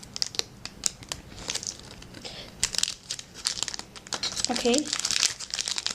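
A blade cuts into a block of green pearl polymer clay, giving sharp crinkling and crackling bursts of packaging and cutting noise, with a short spoken word partway through.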